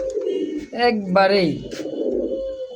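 Pigeons coo repeatedly at a pigeon market, where highflyer and giribaz birds are for sale, their low throaty calls close and steady, with a voice speaking briefly over them.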